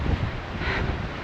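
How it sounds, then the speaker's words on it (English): Strong wind on a hill ridge buffeting the microphone in a steady, rumbling roar with a brief gust swelling partway through. "Very windy"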